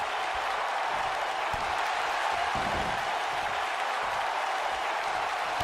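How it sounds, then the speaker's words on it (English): Crowd in the WWE 2K19 wrestling video game cheers and applauds during a Monday Night Raw match, a dense, steady roar of clapping and noise throughout. "the crowd is loving Sasha's act"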